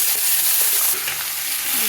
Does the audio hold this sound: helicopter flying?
no